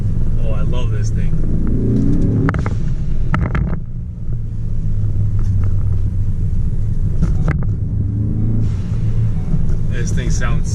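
A turbocharged car engine rumbles loudly and steadily, broken by a couple of short, sharp hissing bursts from its blow-off valve venting, with voices talking over it.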